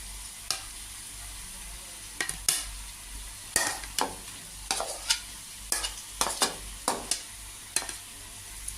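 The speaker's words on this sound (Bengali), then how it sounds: "আমি এর মধ্যে এখন পটলগুলো ছেড়ে দেব পটলগুলো দিয়ে আমি আরেকটু কষাবো" Pointed gourd (potol) frying in a spice paste in a pan, with a steady low sizzle broken by repeated sharp scraping clacks of a spoon stirring, close and fairly quiet, no talking.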